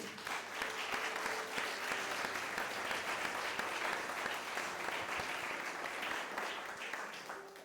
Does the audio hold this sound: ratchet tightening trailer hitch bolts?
no